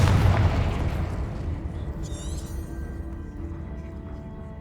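A Confringo spell explosion in Hogwarts Legacy, a loud boom at the start that rumbles and decays over several seconds, with a brief shimmering magical tone midway.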